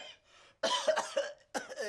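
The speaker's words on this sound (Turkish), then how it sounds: "Ne yutturup öksürüyorsun ya?" A few harsh coughs, close and fairly loud, in short bursts with brief pauses between them, preceded by a faint murmur.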